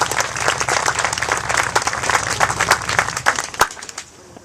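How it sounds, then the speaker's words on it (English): Applause from a grand opening audience, dense and close clapping from a sizeable crowd that holds steady, then thins out and tails off near the end. "Let's give a round of applause for all the people that made that"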